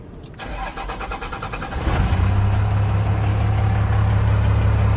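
A 12-valve engine starting, with a short cranking whirr followed by the engine catching and settling into a loud, steady low idle, close up with no talk.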